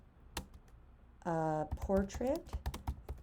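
Typing on a computer keyboard, quick clattering key presses in irregular bursts close to the mic, heard under and between a person's speech.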